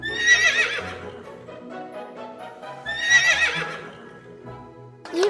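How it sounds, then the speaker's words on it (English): A horse whinnies loudly twice in a children's animal guessing game: each neigh is a long, shrill, wavering call, separated by a short pause, with a third call just beginning at the end. "You've guessed the horse right."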